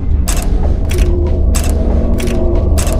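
Color switches on the 2017-setting 11th and 12th Doctor TARDIS console in Gmod make a series of mechanical clicks and ratcheting creaks, five sharp bursts over a steady low mechanical hum, close and fairly loud.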